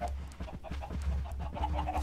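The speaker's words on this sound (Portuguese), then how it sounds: "Se eu abrir aqui, as galinhas fogem." Chickens clucking in Minecraft, a few short repeated clucks over a low steady background hum, with no speech.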